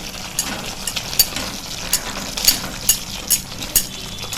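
Garam masala and kasuri methi stirred into a sizzling pan for a ridge gourd curry, a steady fry hiss broken by regular scraping strokes of a spoon about every half second, close and moderately loud with no talking.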